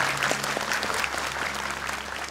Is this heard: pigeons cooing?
no